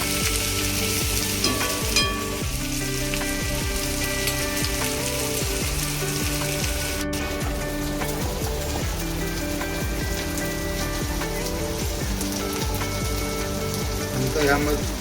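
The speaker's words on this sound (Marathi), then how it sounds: "कांदा पूर्ण लाल होईपर्यंत आपण जरा परतून घ्यायचं." Onion fries in a pan for bhindi fry with a steady, dense sizzle and crackle that runs the whole time. It sounds close and continuous, with occasional stirring.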